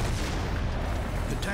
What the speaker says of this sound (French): À 11h05, une énorme explosion se produit.